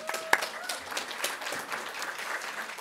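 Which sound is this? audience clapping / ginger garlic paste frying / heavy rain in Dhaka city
audience clapping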